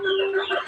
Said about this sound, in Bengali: এখানে টোটাল 7 পিস কোয়েল আছে